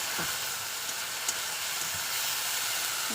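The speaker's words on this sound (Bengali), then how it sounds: "এটা সুন্দর করে নাড়াচাড়া করে গলিয়ে নিই। একদম গলে যাবে পেঁয়াজগুলো।" Onions cook in a pan with a little water, giving a continuous close hiss and bubbling sizzle, with a few faint scrapes of stirring.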